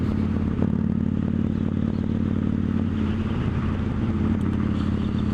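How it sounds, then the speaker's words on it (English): A Victory Judge motorcycle with a debaffled stock exhaust drones loudly and steadily with a throaty, open exhaust tone at a constant pace in top gear on the highway, recorded up close while riding. "So I believe this one is just a debaffled stock exhaust, and it's running really nicely"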